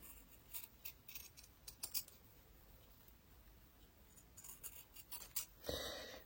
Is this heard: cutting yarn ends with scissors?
yes